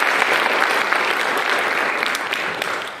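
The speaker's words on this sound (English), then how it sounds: "So if we could please give them a round of applause for that." An audience at a high school jazz lab and orchestra showcase applauds student musicians with a dense, sustained wash of clapping that fades slightly toward the end.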